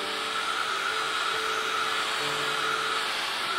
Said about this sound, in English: Grab the dryer, the heat tool, and get this dried up